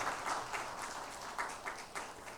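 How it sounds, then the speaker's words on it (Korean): Congregation applauding during a Sunday Lent service at Hanyang University Church in South Korea, a brief burst of steady clapping from a room full of people. "두 분 잠깐 일어나시고 우리 격려의 박수 하겠습니다"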